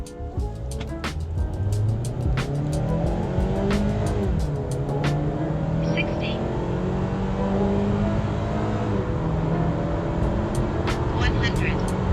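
A 2023 Mazda CX-3 Sport Luxe accelerates hard in sport mode, its engine note climbing steadily through the revs in a loud, continuous cabin drone, while someone talks over it.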